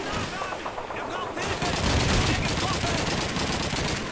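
Rapid automatic gunfire from the player's weapon in Call of Duty 2, a WWII shooter, rattles loudly and steadily after a quieter first second, with someone talking faintly underneath.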